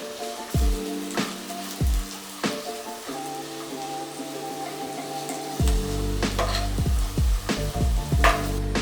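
Sheer kurma ingredients slow-frying in a pan on low heat, a soft steady sizzle with repeated scraping stirs of a spatula against the pan, no voices.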